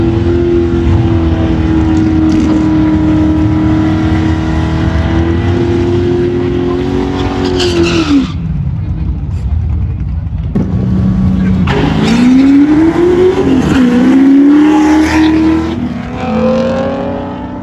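A powerful Ford Mustang Foxbody engine revs hard and roars off the line, pitch climbing, dropping briefly, then surging again loud and close.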